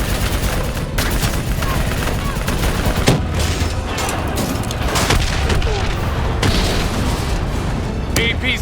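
Sustained video-game gunfire from Call of Duty: Black Ops 3, bursts aimed at a VTOL aircraft, with dense loud volleys, booming impacts and explosions throughout, shouted combat voices mixed in.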